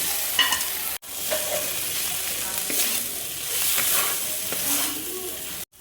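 Soybean chunks being stirred into masala frying in a pan, a close sizzle with scraping stirring strokes throughout and a brief break near the start and end.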